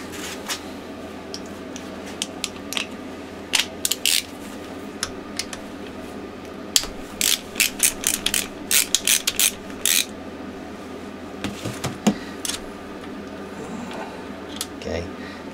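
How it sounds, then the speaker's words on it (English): Small metallic clicks and ticks from a wrench working a bolt loose on a Honda 400/4 engine, with scattered bursts of close, light tool taps, then quieter handling noises toward the end. "I'm just going to take this bolt out"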